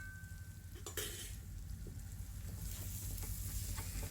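Crushed black pepper and spices sauté in a hot pan for a deer curry, giving a continuous close sizzle and frying hiss with a few sharp stirring scrapes and clinks, and no talking.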